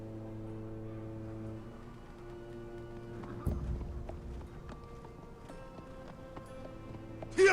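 Horse hooves clop in Telltale's Game of Thrones Episode 6 as riders set off, a steady rhythmic patter over music and ambience, building slightly midway with a louder burst at the end.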